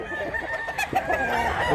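A rooster at a Cebu market sale clucks in short, close repeated bursts with a few sharper calls, and other fowl and background noise from the crowd sound in the surroundings.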